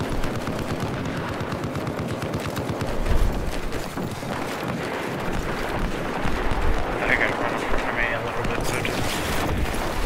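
Machine gun fire rattles in Battlefield 4, a dense, continuous stream of rapid shots inside loud, churning battle noise and a low rumble that lasts the whole stretch.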